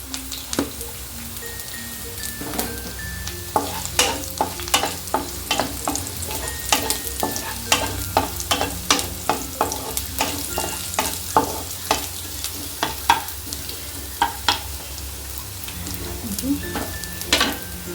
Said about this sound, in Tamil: இப்போ இஞ்சி போட்டிருக்கேங்க. இப்போ பூண்டு போட்டலாங்க.